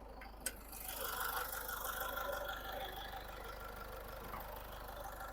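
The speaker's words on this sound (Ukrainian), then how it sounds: "Як у нас працює двигунчик." A 2012 Peugeot 4007 diesel engine idles with the hood open, a steady low rumble with a faint mechanical clatter, fairly quiet and even, after a brief click at the start.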